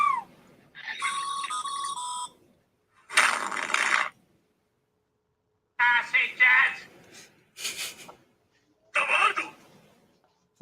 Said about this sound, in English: These are literally all the notification noises I have for my phone.